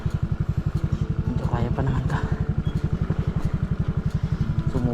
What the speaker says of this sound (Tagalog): Sumuko yung motor, hindi talaga kaya, madulas eh.